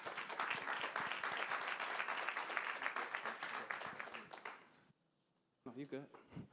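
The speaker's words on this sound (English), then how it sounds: "I want you to just give a big hand of applause for Miles Francis" An audience at a community action council meeting claps for several seconds, dense applause that fades out, followed by a speaker beginning to talk.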